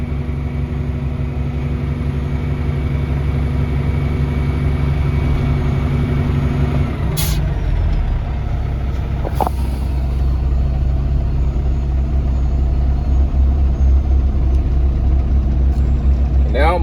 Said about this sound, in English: I'm gonna raise it up just enough so enough asphalt can fall out into the paver.